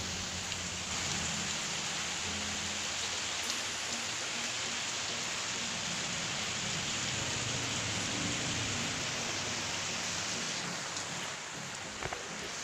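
Continuous rain hisses steadily over a surface, a dense even wash of drops with no talking and no clear thunder.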